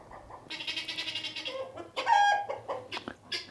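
Hens cluck and chatter close by, a rapid run of calls followed by a few louder squawks, with no people speaking.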